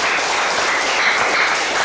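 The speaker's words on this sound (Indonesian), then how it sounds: "Baik, tepuk tangan untuk semuanya." A school class applauding, a brief, dense burst of clapping from many hands, loud and even for its short length.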